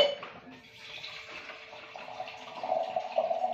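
A kitchen tap runs steadily as water fills around a pumpkin being washed, a close continuous gush that grows a bit louder toward the end, with no talking.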